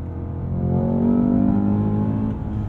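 Cadillac CT5-V Blackwing accelerating hard at full throttle through a no-lift shift, a steady deep engine roar building and holding without a break, heard from inside the cabin with no talk.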